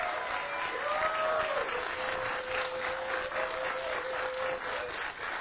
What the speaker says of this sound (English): So a round of applause for everybody coming out today.